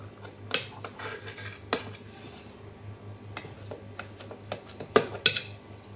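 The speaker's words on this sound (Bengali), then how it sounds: "এবার আমি একটু পিস পিস করে কেটে নিচ্ছি।" A knife clinks and taps against a plate while slicing a spongy chhena cake into pieces, with scattered sharp metallic ticks and scrapes up close and no talking.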